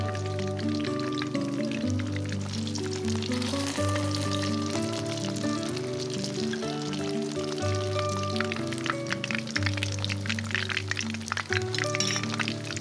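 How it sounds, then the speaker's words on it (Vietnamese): Steady crackling sizzle of fish frying in oil in a pan, continuous and close, with a soft tonal background underneath throughout. "Thỉnh thoảng trong lúc chiên mình lắc chảo, nghiêng chảo để cá áo đủ dầu,"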